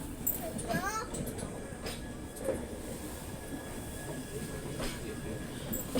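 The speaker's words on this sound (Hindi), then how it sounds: "आला हजरत एक्सप्रेस जो बरेली से भुज के लिए जाती है" The Ala Hazrat Express, running between Bareilly and Bhuj, rumbles past at a steady moderate level, with wheel squeal and a faint high whine over the rolling noise.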